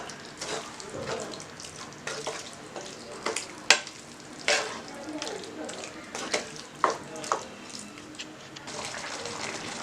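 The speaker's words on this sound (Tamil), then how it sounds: "இப்போ இதை வந்து நல்லா மிக்ஸ் பண்ணி விடுங்க." Jeera mutton being stirred with tomato and salt in a pan, a steady sizzle and fry under scraping, clattering spoon strokes that rise into several sharp knocks against the pan, fairly close.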